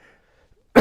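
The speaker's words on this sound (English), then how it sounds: "Excuse me, I got a little bit of a cough." A single sharp, loud cough from a man with a lingering cough, bursting abruptly after near silence with a faint earlier murmur of speech.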